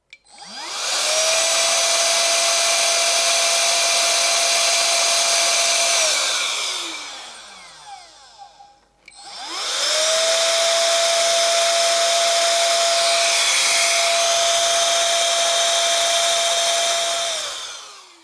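A Parkside 12V mini blower and duster runs in two long steady bursts, a loud close high whine with a bright tone. It spins up at the start of each burst and winds down between them, with no talk.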